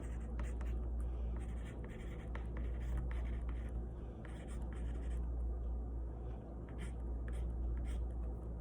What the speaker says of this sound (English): what you're gonna do is you're gonna go over your quote in black magic marker